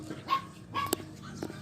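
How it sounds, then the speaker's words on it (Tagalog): A dog gives a few short barks and yips in quick succession, fairly close, with faint background noise in a Cavite subdivision setting. "Ayun guys, may aso guys."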